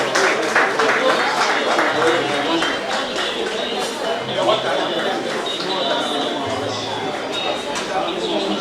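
Dinner guests at an awards night clap for an honoree, a dense continuous round of applause mixed with crowd chatter and voices.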